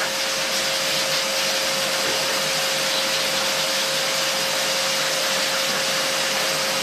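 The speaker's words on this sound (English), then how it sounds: "Make sure you've got it on the blow side." A shop vacuum running on its blow side forces air through a wet filter, a loud steady roaring whoosh with a constant motor whine, close and unbroken throughout.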